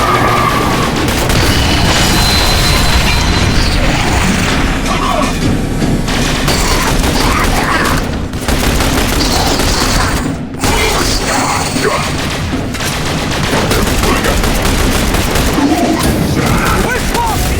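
Support-fire bombardment in The Bureau: XCOM Declassified: a loud, continuous barrage of close booming explosions and rattling gunfire, dense and chaotic, with brief lulls and shouted voices mixed in.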